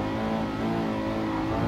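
Ferrari mid-engine supercar in Gran Turismo 7, engine revving with a strong, buzzing harmonic note held at high revs, loud and close throughout with no voices.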